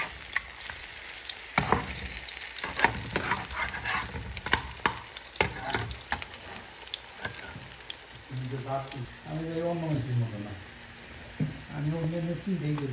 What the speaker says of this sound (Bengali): হয়ে গেল কুরকুরে মুড়মুড়ে ফুলের বড়া ভাজি